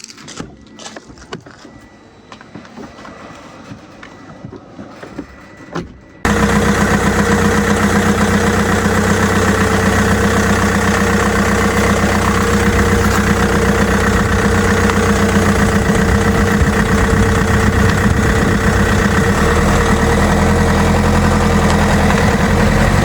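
An Alfa Romeo 159 engine starts after some quiet cabin handling noises. It then settles into a loud, steady, close idle hum that lasts to the end.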